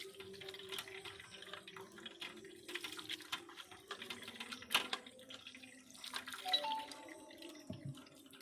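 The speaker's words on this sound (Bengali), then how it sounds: "ছানাটা একটু ভালোভাবে ধুয়ে নেব কেননা ভিনিগার দিয়ে কেটেছি টক জলটা বের করে দেবো" Chhana curd, split with vinegar for rasgulla, being rinsed under running water to wash out the sour whey: a steady tap trickle with light splashing and drips, close by and moderately quiet, with no talking.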